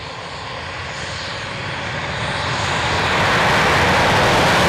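Deep roar of an Italian Air Force aircraft engine taking off at an airshow, steadily building louder over several seconds as it powers down the runway, no voices.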